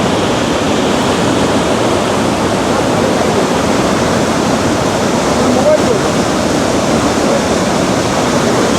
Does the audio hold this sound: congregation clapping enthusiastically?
no